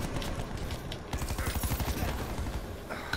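Rapid bursts of automatic gunfire from a Call of Duty: Black Ops 4 match, a dense rattling volley that swells midway and keeps going steadily over a rumbling game soundscape.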